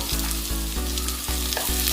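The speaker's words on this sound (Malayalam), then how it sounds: "ഇനി നമുക്കിതിലേക്ക് അരിഞ്ഞു വെച്ചിട്ടുള്ള വെജിറ്റബിൾസ് ആഡ് ചെയ്യാം." Chopped carrots and beans stir-frying in a hot pan for vegetable noodles, a loud, close sizzle interrupted by about five regular scrapes and tosses of a spatula, no voices.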